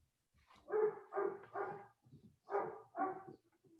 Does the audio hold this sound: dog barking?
yes